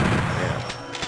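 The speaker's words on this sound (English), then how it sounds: "Gotta love the chain gun, man." Chain gun firing in Doom on PS1, a brief loud run of rapid low thudding shots packed closely together, alone without talk.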